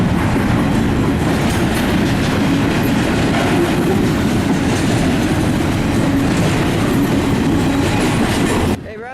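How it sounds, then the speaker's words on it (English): An intermodal freight train rolls past up close, its rail cars setting up a loud, continuous clickety-clack and rumble that keeps going without a break until the very end. "As the end of this intermodal train comes closer"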